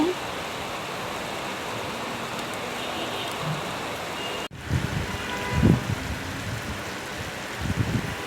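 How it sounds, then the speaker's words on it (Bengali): Steady rain hiss throughout, briefly cutting out midway, then continuing with a few low thumps and rustles near the end. "বৃষ্টি হচ্ছে।"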